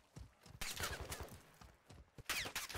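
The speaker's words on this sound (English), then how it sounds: "they're shooting at me" Bots fire at the player in the DMZ video game: two quiet, rapid bursts of gunfire, each a clattering volley of shots, separated by a short pause.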